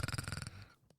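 A voice imitates the Predator creature's noise with a rapid rattling clicking burst that trails off into soft breathy noise, close to the mic.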